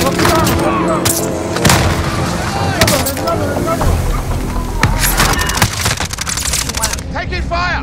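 Loud gunfire in Call of Duty: Modern Warfare, dense bursts of shots and booming impacts throughout a chaotic battle, with shouted voices over the shooting.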